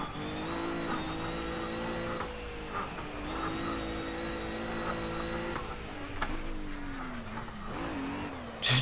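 Ginetta GT4 race car in the Project CARS racing game, engine droning steadily at high revs as the car slides through moderate drifts, pitch dipping and rising with throttle lifts, loud and continuous with no talk.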